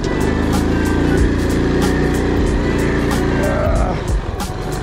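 A vehicle driving through hilly wilderness in Sylhet, its engine a steady, loud, close drone with some rattling, easing off near the end, while voices talk over it.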